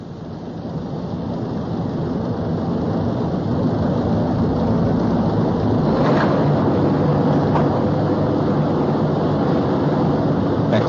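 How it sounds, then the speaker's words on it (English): A VW Transporter T3 engine on a factory test bench runs under load as a steady, loud mechanical roar with no breaks, rising slightly at first and then holding level. "Each individual engine is run under load on the test bench and adjusted exactly."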